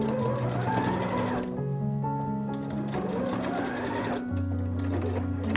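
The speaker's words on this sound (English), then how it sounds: "here you can see I'm just sewing a seam between the top of my bodice and my skirt right in that ditch above the gathers" A sewing machine stitches a seam joining a dress bodice to a gathered skirt, running in steady whirring bursts with a brief slowdown midway, loud and close, while someone speaks over it.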